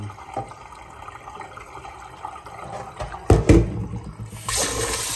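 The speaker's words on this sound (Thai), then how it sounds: "ซาวข้าวล้าง คือล้างข้าว ล้างฝุ่นล้างอะไรในข้าวออกนั่นเอง" Sticky rice being rinsed in water, with quiet sloshing at first, then a louder swirl and splash of water partway through, followed by a steady rush of running water at the end, close and without speech.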